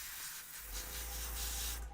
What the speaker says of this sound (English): I'm spraying, I'm airbrushing these cheap plastic toys